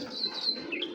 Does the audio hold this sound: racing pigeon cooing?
yes